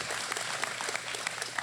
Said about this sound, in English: hope you're clapping for Tim